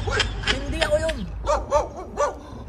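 A dog lets out several short, sharp barks and yips in a steady string, at moderate distance, on a day off for factory workers in South Korea. People's voices can be heard around the barking.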